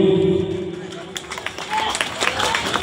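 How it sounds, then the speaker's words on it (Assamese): An audience at a felicitation ceremony held by the Surya Pahar committee breaks into applause. Dense, busy clapping builds after a brief steady tone and fills the rest of the moment. "গতিকে হাত চাপৰি দিব।"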